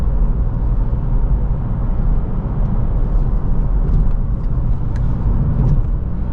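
Close, continuous engine hum and road rumble from a 2023 Acura Integra A-Spec cruising on Mines Road, steady and unbroken, with faint light ticks near the end and no one talking.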